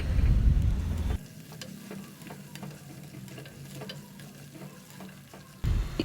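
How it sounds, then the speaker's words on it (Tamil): Small cut radish pieces sauté in hot oil with a steady sizzle and scattered stirring clicks, loudest at the start and again at the very end. "இப்போ இந்த முள்ளங்கியை நம்ம இந்த எண்ணெயிலே நல்லா வதக்கிக்கலாம்"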